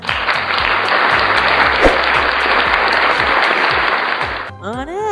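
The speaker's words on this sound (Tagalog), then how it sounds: "palakpak naman dyan." Audience applause, dense continuous clapping at close range for about four and a half seconds before cutting off abruptly.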